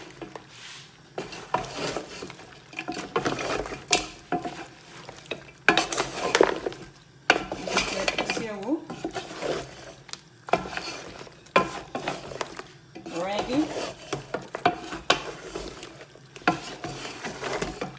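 Goat meat for isi ewu, a Nigerian delicacy, being stirred and mixed with its sauce in a pot, with wet squelching and scraping sounds coming in repeated bursts, close and fairly loud, with occasional utensil clinks.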